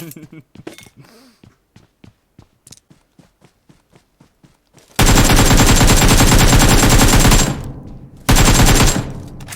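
PUBG Mobile gunfire: quick rhythmic footsteps give way to a long, loud sustained burst of automatic fire, a brief gap, then another close burst.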